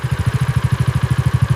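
A single motorcycle close by, its engine loud with a fast, even, throbbing pulse and no change in pace, heard alone.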